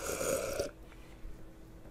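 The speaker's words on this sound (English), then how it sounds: "burps" A man reviewing a hop-heavy beer lets out a single drawn-out burp, close and fairly loud, that cuts off abruptly into quiet room tone.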